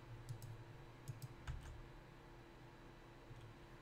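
Keyboard shortcuts are typed on a computer keyboard during a Grim Fandango gaming session, with quiet, scattered clicks and taps in small bursts, close and faint, with no talk.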